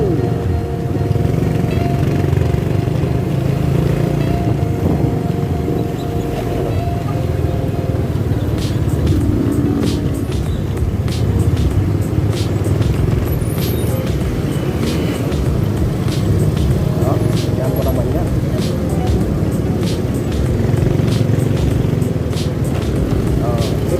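Steady road traffic at a stop light in Metro Manila near Trinoma, a dense continuous rumble of car and motorcycle engines, loud and close throughout with scattered brief higher clicks.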